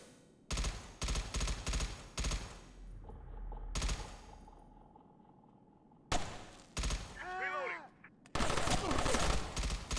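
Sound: gunfire in the SOCOM 3 video game

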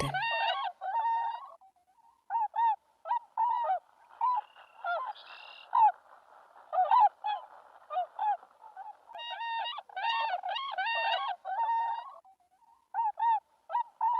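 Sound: swan calling

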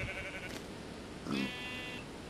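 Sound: sheep bleating in video game Minecraft

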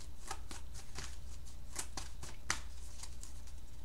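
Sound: tarot cards being shuffled and drawn

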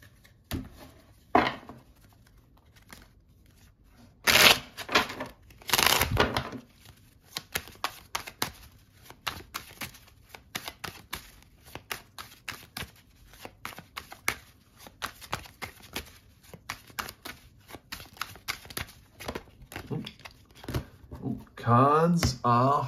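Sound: shuffling tarot cards

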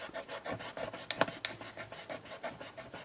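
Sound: rubbing a rub-on transfer onto paper with a popsicle stick

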